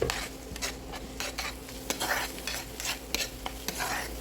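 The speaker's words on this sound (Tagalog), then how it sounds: "Igisa lang natin yan sa ating mainit na mantika hanggang sa lumabas na yung aroma niya" Pork belly, garlic and onion sautéing in hot oil for adobo, with a steady close sizzle broken by repeated stirring scrapes and light clinks of a utensil against the pan.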